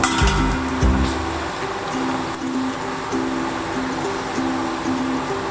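Water is poured into a pot to start a sugar syrup for candied mango-plum, a continuous close splashing pour with light clinking of the vessel, steady and loud throughout with no speech.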